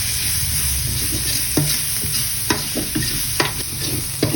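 Pork bones stir-fried in hot oil, a steady close sizzle broken by repeated scraping stirs of a utensil against the pan, with no voices.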